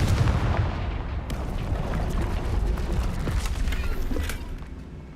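A Confringo fire spell in Hogwarts Legacy erupts into a deep, rumbling blast, followed by sustained crackling booms and scattered sharp cracks that stay loud for several seconds before tapering off.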